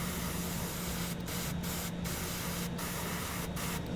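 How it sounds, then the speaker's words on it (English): A can of spray paint is sprayed onto a Warhammer miniature, giving a steady close hiss that is broken by several brief pauses between bursts, with no talk. "let's spray this color before it clogs"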